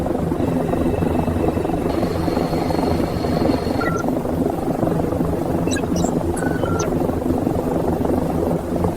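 An MQ-9 Reaper military drone flies, heard as a steady loud droning engine hum that holds throughout, with faint beeps and electronic tones over it.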